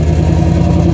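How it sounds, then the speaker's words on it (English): A Ford 5.0 Mustang engine with a rattling exhaust gives a loud, close, steady low rumble for a brief moment. "it literally sounds like rocks rattling around in a tin trash can"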